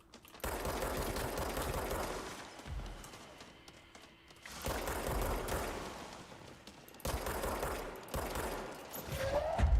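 Rapid bursts of video-game gunfire from shooting an enemy in Control, three dense rattling volleys separated by short lulls, loud and close with no talking.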